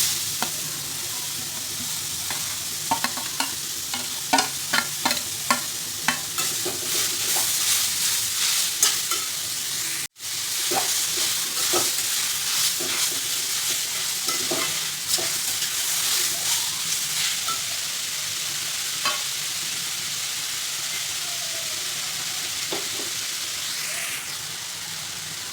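Grated raw mango fries with asafoetida and turmeric in hot oil, giving a steady close sizzle broken by repeated scrapes and clicks of stirring, with one brief dropout midway.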